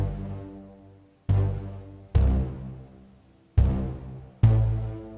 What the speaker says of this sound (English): I've actually got this sort of miscellaneous brass stab bass